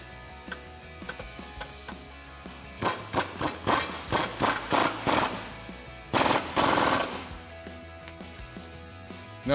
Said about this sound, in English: And now we'll go ahead and tighten up our two body mount bolts using our 21 millimeter socket.